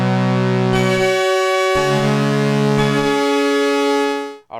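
A Korg Poly-800 synthesizer set to double oscillator mode holds a bright, thick, buzzy sustained chord. Its bass notes change a few times underneath before the sound cuts off at the end.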